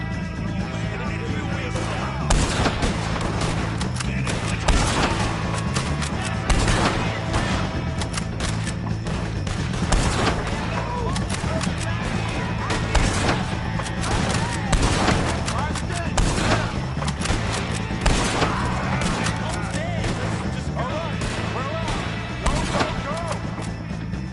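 Gunfire in the video game Red Dead Redemption 2 during a fight around a wagon: dense, continuous volleys of loud shots and booms over a busy mix of game sound, with no pause throughout.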